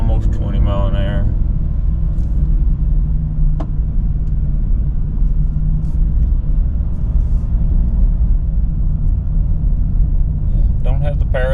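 Gas-engined Ford Super Duty pickup hauling a heavy load up a steep grade at low speed, its engine a steady loud drone throughout, with brief talk at the start and again near the end.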